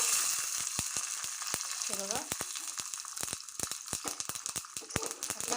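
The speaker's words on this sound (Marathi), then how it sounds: "मी एका छोट्या पॅनमध्ये थोडं तेल गरम करून घेतलेलं आहे आता आपण यामध्ये टाकूया थोडीशी मोहरी" Mustard seeds, white sesame seeds and two red chillies fry in hot oil in a small pan for a tadka, crackling and popping in rapid, irregular bursts over a steady soft sizzle.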